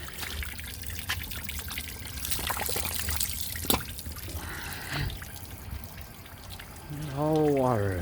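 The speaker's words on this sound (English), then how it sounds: "All the water that's draining out." Water drains out of a salvaged boat in an uneven, trickling stream that gurgles and splashes at close range, with a voice speaking over it and a brief whistling sweep near the end.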